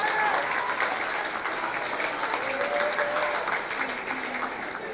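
Applause from a school audience for student speech-competition semifinalists, a steady, moderately loud patter of many hands lasting about five seconds, with faint voices and a brief whistle-like tone mixed underneath.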